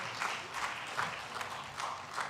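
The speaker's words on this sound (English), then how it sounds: "Can we please clap for the children" An audience at a launch event to end FGM claps steadily for the children, a moderate, even wash of applause in a hall.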